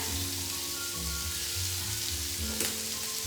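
Lamb sears in a hot pan with a steady, loud, close sizzle and crackle that holds without a break, with a low hum underneath and no talking.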